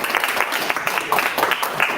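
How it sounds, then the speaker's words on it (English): An audience at a members' talk evening applauding after a talk, dense steady clapping from many hands throughout, fairly loud and close. "round of applause"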